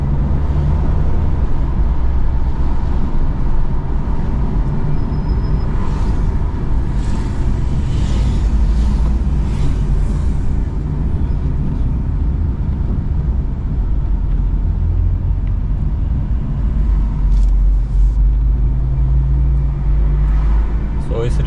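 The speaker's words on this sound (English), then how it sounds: "It's really strange to drive a car like this with roll cage and everything, fully raced up car" A race-prepared rental car with a roll cage drives near the Nürburgring track entrance, its engine and tyre roar a steady loud drone from inside the cabin throughout.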